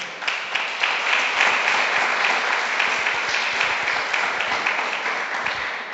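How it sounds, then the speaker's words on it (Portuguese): A church congregation applauds God in a sustained, fairly loud round of clapping that fills the room evenly for several seconds, with no voices on top. "Você pode aplaudir a Deus?"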